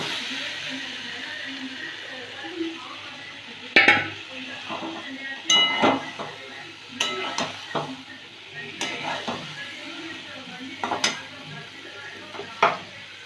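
Pointed gourd pieces frying in oil with spices in a pan for a mung dal dish, a soft ongoing sizzle broken by repeated sharp clinks and scrapes of a utensil stirring against the pan.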